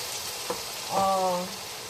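Fried tofu cubes drop into a pan of adobo-style okra with tomato, setting off a soft sizzle and frying crackle with a brief stir, close and fairly quiet.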